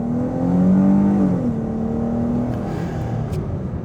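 A 2023 Dodge Charger V6 accelerates up close, a steady engine drone whose pitch climbs briefly and then levels into a smooth cruising hum with no talk.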